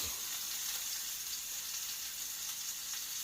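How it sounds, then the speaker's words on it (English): Flour browning in a little oil in a pan for an Italian pot roast, giving a steady, fairly quiet hiss of sizzling frying that holds evenly throughout with no talk. "Put a little bit more oil on the bottom of the pan here. Now that flour is going to brown with this."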